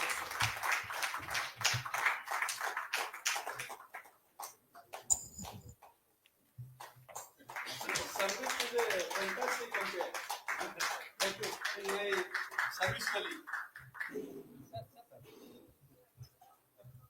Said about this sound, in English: Audience, can we have a big round of applause,